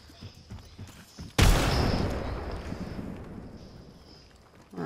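A frag grenade blast in Apex Legends bursts out loudly and close, with a sharp broadband boom followed by a long, slowly fading rumble and debris wash, after quieter game sounds.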